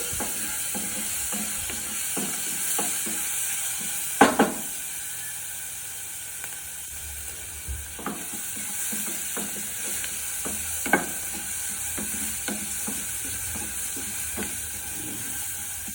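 Onions sautéing in a pan, a steady soft sizzle under scattered stirring scrapes and clicks, with a couple of sharper knocks; no talk.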